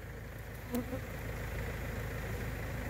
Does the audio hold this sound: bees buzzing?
yes